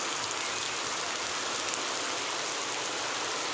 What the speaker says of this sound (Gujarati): અમારે તો આવો વરસાદ ચાલુ છે લગભગ રાતના 2 વાગ્યાનું